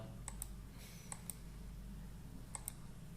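Several quick, faint key clicks from a computer keyboard while an address is typed, coming in small pairs separated by pauses, with a steady low hum underneath.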